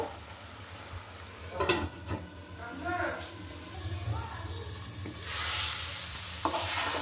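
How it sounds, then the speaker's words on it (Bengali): Banana stem being stirred as it fries in a pan, with soft scraping strokes and a steady low sizzle that grows louder toward the end, under a faint background hum. "এটা শুধু নাড়তে হবে, ধরে না যায়, ধরলে কিন্তু ভালো লাগবে না।"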